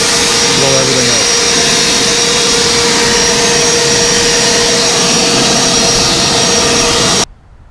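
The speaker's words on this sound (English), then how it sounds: "Now I'm just going to come in with the leaf blower." A leaf blower roars loudly and steadily at close range as it dries the engine bay of a low-mileage AP2 Honda S2000, then cuts off abruptly at the end.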